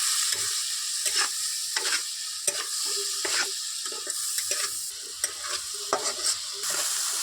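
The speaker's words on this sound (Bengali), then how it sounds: "এবার একটু নাড়াচাড়া করে দিই" Spice paste being stirred with a little water in a cooking pan for an egg curry, with a steady sizzle under repeated scraping strokes of the spoon, close and fairly loud throughout, no talking.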